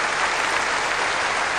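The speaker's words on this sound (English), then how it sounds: "And acknowledging the applause here," A standing ovation fills a tennis stadium after the 1999 Queen's Club final won by Pete Sampras over Tim Henman, with dense, steady applause at full volume throughout.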